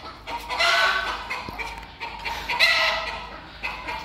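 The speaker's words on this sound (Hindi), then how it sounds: "अब ये उससे दूर है ना इसलिए मुर्गा शोर कर रहा है।" Nearby, a rooster gives loud, raspy crowing calls, two main bursts with a short quieter gap between them.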